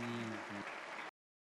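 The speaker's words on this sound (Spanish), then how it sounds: "Un aplauso a nuestro compañero." Brief, faint audience applause at a World Youth Day gathering in Kraków, a steady patter of clapping with a low hum underneath, ending in an abrupt cut to silence.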